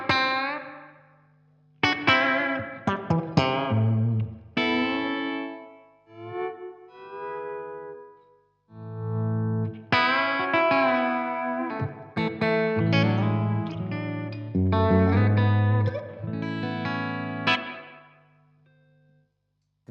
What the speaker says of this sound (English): what we're on currently is the first choice of reverb, which is dark, which is simulating kind of like a room reverb.